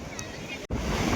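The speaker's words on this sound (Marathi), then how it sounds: "पाणी लहर आलेली आहे." Sea waves wash and roll onto Dandi beach in Gujarat as a broad, loud, continuous rush, mixed with gusty wind noise on the microphone and a brief dropout midway.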